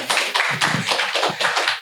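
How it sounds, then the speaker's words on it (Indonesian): An audience at a property talk show claps in short rhythmic bursts, several close pulses of hand claps heard near and fairly loud for a couple of seconds. "Tepuk tangan dulu dong untuk teman-teman Arebi di sini"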